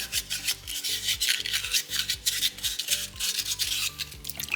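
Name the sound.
sanding a soapstone owl carving with 600 grit sandpaper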